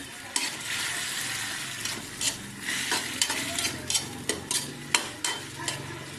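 A spoon stirs sautéed vegetables with canned sardines in a hot pan, a series of close scraping clacks over a steady sizzle.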